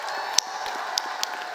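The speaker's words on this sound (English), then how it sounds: "And I want you to give yourselves a round of applause." Applause from a large audience at a Steve Harvey speech event in Jamaica, a steady wash of many hands clapping with a few sharper individual claps standing out.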